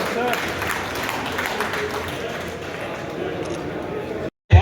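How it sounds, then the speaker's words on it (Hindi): Applause from an event audience welcoming a guest speaker at an annual festival, a dense continuous patter of clapping that holds steady for about four seconds and then cuts off abruptly. "तालियों के साथ इसका स्वागत किया जाए।"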